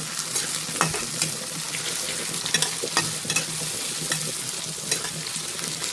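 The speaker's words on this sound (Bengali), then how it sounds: "পেঁয়াজটা আমি লাল লাল করে খুব সুন্দর করে ভেজে নেব।" Onions fry in hot oil, a dense, steady sizzle close by, punctuated by regular scraping stirs of a spatula against the pan.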